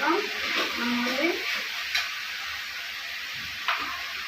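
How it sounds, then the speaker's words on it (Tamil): Banana flower stir-fry being stirred in a hot pan, a soft continuous sizzle with scraping strokes of a spoon, a few short clinks, close and moderately loud. "நல்லா அந்த மாதிரி கிண்டி விட்டுக்கணும்."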